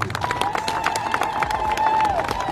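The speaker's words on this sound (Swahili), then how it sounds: "Pia makofi mengi kwa Dr." A crowd applauds a doctor at a public gathering about development projects, with steady, dense clapping and cheering throughout and a high whistle-like tone running through the noise.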